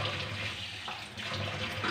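Water poured from a tumbler into a cooking pan to make a rava breakfast dish, a steady continuous splashing pour that runs through the whole moment, close and fairly loud.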